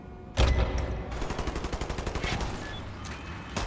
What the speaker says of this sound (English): New weapon, handgun.